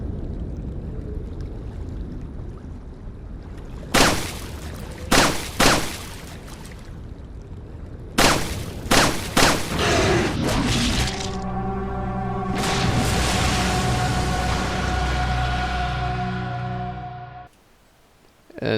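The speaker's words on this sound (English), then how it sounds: "Shooting the lake in RE4." Gunfire into the lake in the video game Resident Evil 4: several sharp, loud shots in a short burst, followed by a long rumbling, churning water roar with a steady mechanical drone, then an abrupt cut.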